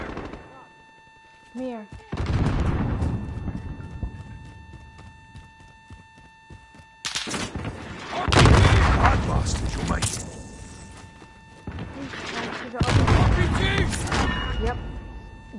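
Gunfire bursts in Call of Duty Modern Warfare ring out in loud, dense volleys at intervals, mixed with a voice talking briefly.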